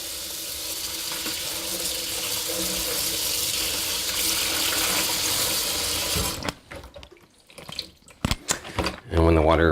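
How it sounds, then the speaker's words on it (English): Greens rinsed under tap water in a salad spinner, a steady close gushing stream that cuts off after several seconds, followed by clunks and handling noises. "Just throw it into my salad spinner and rinse it and make sure no dirt's coming off of it."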